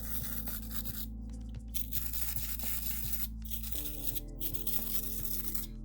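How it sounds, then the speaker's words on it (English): Paper is rubbed gently by hand, producing soft, continuous scraping and rustling strokes over a steady low electrical hum, quiet and close, without speech. "Just gentle rubbing, because we want the paper to stay intact."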